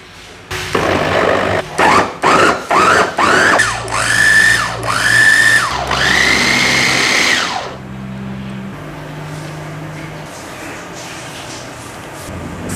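A blender on a kitchen counter purees cassava pieces with half a liter of water, whining loudly in several short pulses that rise in pitch, then settling into one longer steady run before it stops and a low hum remains.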